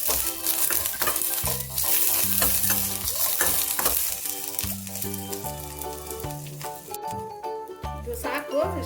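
Garlic and ginger pieces fry in a pan for a restaurant-style chicken white pulao, giving a steady sizzle and stirring scrapes beneath continuous background music, with a voice present.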